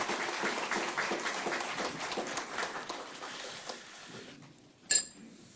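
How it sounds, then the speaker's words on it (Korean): A church congregation applauds at a pastor's retirement and installation service, with dense clapping that thins and fades out, followed by a single sharp clink near the end. "우리 박수 한번 치도록 하겠습니다."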